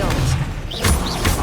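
Expelliarmus spell cast in Hogwarts Legacy on PlayStation, heard as a short burst of magical whooshing with rising sweeps and a heavy thud, layered over a steady game soundscape.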